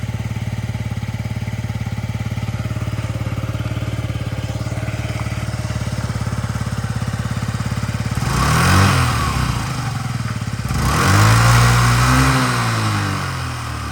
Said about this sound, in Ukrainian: Рівненько, тихенько працює двигунчик.